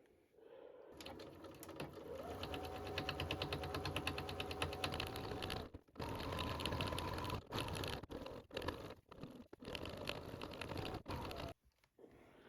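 A sewing machine topstitches an absorbent drool bib in quick mechanical runs, rattling along for several seconds and then stopping and starting in short bursts, close and clear with no talking.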